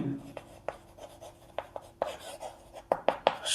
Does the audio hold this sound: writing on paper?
yes